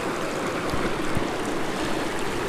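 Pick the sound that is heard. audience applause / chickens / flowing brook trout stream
flowing brook trout stream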